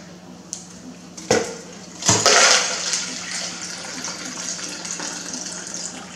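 Meltwater pours from a TOPIA 1 gallon thermos into a container after a seven-day ice test, with a couple of clunks and then a steady splashing gush close by.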